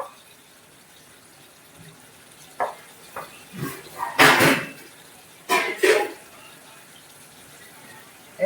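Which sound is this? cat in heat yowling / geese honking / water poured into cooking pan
water poured into cooking pan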